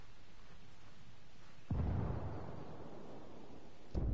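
A grenade blast in the video game Ghost Recon: one sudden heavy boom with a rumbling tail, followed near the end by a second sharp burst, loud against low background noise.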